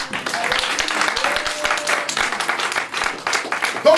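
A church congregation applauds in praise, its dense, continuous clapping mixed with voices and shouts throughout.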